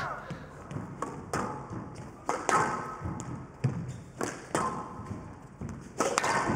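Squash ball struck hard with a racket during a professional Egyptian Open 2020 match: a series of sharp, punchy thuds rings out at irregular intervals in an echoing court, with a murmur of background voices.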